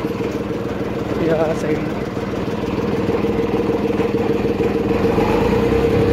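A tractor engine runs loud and steady, its low chugging rumble filling the scene from start to finish while a person speaks briefly over it.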